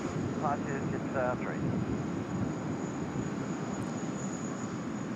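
A Jetstar airliner departing Sydney Airport gives off a broad, distant engine roar with wind rumble, steady and fairly faint, while someone speaks briefly over it.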